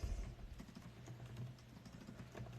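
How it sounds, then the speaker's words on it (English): Keys clatter in quick, uneven bursts on a computer keyboard, a soft close tapping run that continues steadily with no voices. "Typing live."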